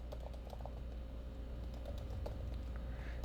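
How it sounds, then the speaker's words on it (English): Quiet keystrokes as a command is typed into a computer terminal, a steady run of light, close clicks at an uneven rhythm over a low background hum, with no talking. "you should be able to go to a terminal and type APK tool"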